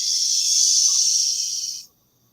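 A human voice imitates cicadas at night with a steady, loud, high buzzing hiss lasting about two seconds, held evenly and then cut off abruptly, with no talk around it.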